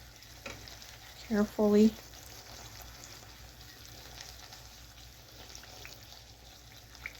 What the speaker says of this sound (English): Make sure it's covered in the oil